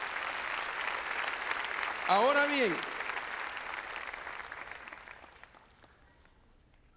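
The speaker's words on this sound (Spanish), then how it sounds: "Dele palmas al Señor de la gloria." A church congregation applauds in a sustained wash of clapping that swells and then slowly fades away, with a voice speaking over it.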